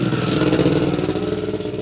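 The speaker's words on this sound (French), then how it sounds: "comme la moto qui vient de passer sur ce merveilleux domaine de Jonquière" A motorcycle engine on a rural estate in Jonquière, its steady mid-pitched drone held loud and close throughout with slight fluctuations, no speech over it.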